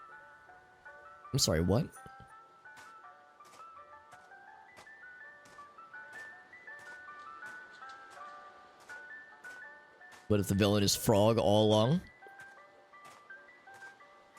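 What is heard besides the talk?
ice cream truck jingle in the Sirenhead video game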